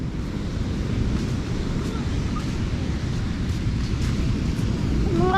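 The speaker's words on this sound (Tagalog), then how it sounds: "Lakas ng alon." Strong ocean waves at a beach, a constant loud roar of surf mixed with wind buffeting the microphone, steady throughout with no clear breaks.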